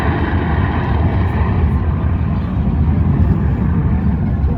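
A Eurofighter Typhoon jet on full afterburner at the Blackpool airshow gives a loud, steady, broad roar that fills the whole stretch without letting up, with no talking over it.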